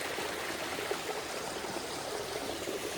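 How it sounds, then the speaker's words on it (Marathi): Heavy, continuous rain during rice transplanting in Konkan paddy fields gives a steady, unbroken hiss of falling water, moderately loud and close, with no voices. "पाऊस पण जोरदार आहे."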